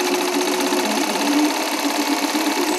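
An electric sewing machine runs steadily, giving a loud, continuous buzzing whir with a fast mechanical pulse, close by and alone without talk.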